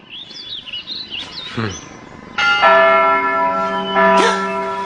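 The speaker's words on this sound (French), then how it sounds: "Les cloches. Ce sont les cloches de l'école" School bells ring out in clear, sustained metallic tones after several birds chirp and tweet nearby, with a second strike of the bells near the end.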